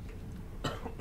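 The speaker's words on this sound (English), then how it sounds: "Still tickly be annoying cough." A short cough from a man with a lingering tickly throat, two brief dry bursts close to the microphone in an otherwise quiet room.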